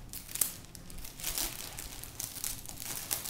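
Cellophane crinkles and rustles close up as it is gathered and secured with transparent tape on a gift basket, a soft, irregular crackle with small sharp snaps.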